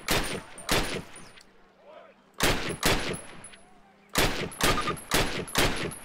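Rifle shots ring out in a Call of Duty training range, two quick bursts of cracks, a pause, then two more and a final volley of four, each with a short echoing tail.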